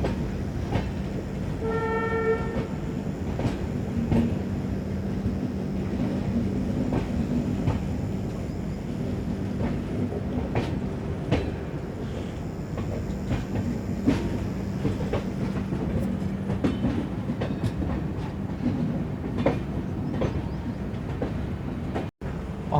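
An EMD diesel locomotive hauls the Narkher–Kacheguda Intercity Express, its steady engine drone and rolling rail noise continuous and loud throughout, with a brief horn toot near the start.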